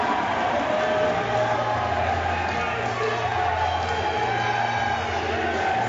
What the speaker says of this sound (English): Oh, the crowd is going crazy.